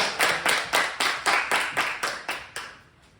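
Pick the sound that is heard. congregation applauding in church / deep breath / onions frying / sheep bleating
congregation applauding in church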